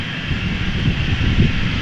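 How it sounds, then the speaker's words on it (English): A KLM Embraer 190 jet, a 13-year-old airliner bound for London City, roars steadily with a loud, broad engine rumble throughout. "This is KLM flight 987, a countdown flight number, going to London City, Embraer 190, 13 years old"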